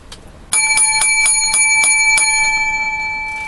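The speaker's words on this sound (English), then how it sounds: "Seven bells, the lucky number seven." A bright metallic bell rung seven times in quick, even succession, each ring clear and close, with the last ring's tone lingering and slowly fading.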